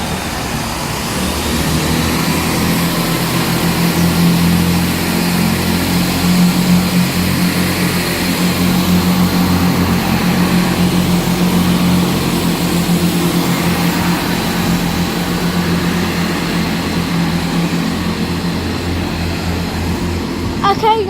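A GWR Hitachi class 800 train running through Bath Spa station on a Bristol Temple Meads service, a sustained loud drone with low engine hum and steady tones lasting the full twenty seconds, heard nearby.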